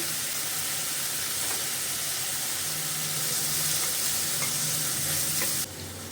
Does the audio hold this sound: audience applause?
no